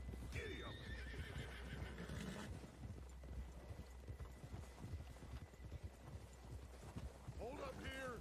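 A horse in the Red Dead Redemption 2 video game gallops with quick clip-clopping hooves, letting out a loud whinny near the start and another near the end, over a steady outdoor rumble.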